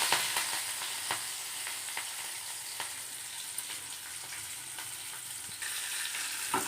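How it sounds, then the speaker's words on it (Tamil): Sliced onion and curry leaves fry in hot oil with fennel seeds, a soft, even crackling sizzle with occasional faint ticks and pops, steady and unbroken with no one talking. "வெங்காயத்தையும் கருவேப்பிலையும் போட்டுக்கலாம்"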